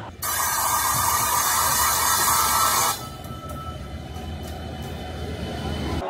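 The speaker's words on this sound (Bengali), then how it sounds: "আমাদের ট্রেন ছেড়ে দিল" An Amrit Bharat Express train on the Malda to Bangalore run rolls along with a loud, steady rushing hiss and rumble that drops abruptly to a quieter, continuous running drone partway through.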